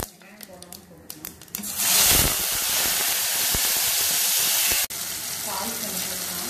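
Mustard seeds and onion hitting hot oil for tempering a bitter gourd and peanut gravy, a sudden loud sizzle and steady hiss that persists for several seconds, with speech and clatter before it.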